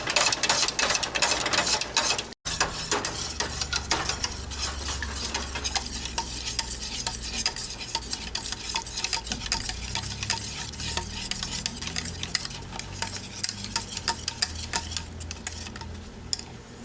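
Pandan rice cake batter is stirred steadily in a pot, a close, continuous scraping and sloshing that keeps a busy rhythm throughout, broken only by a brief pause early on.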